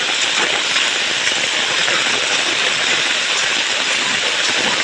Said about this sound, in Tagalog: tuloy-tuloy ang paglakas ng buhos ng ulan